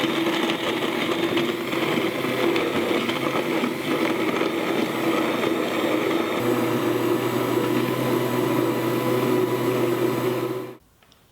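A blender whirring steadily as it purees peeled almonds with water into almond milk, a loud continuous motor drone whose pitch drops partway through before cutting off abruptly at the end.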